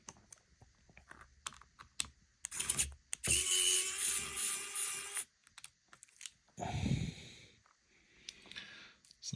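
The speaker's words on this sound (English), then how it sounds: "So that's all of the screws removed" A small powered screwdriver buzzes in short bursts, removing screws from a Nintendo Switch casing, mixed with sharp clicks and tapping of tiny parts on a hard surface, close and intermittent with quiet gaps.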